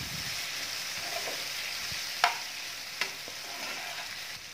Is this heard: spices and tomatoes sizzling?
yes